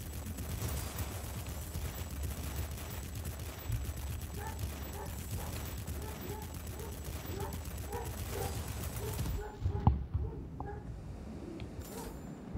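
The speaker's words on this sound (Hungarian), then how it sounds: "nekem az előző hangja jobban tetszett ennek az ágyúnak" Cannon fire from a warplane in the video game World of Warplanes, rapid repeated bursts running over a steady engine drone, loud and continuous, with a sharper shot near the end.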